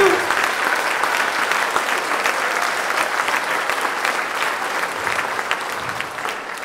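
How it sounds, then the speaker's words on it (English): A string concert audience of families gives steady, dense applause that fills the hall, loud and sustained at a near-constant level with faint voices underneath. "Nice round of applause"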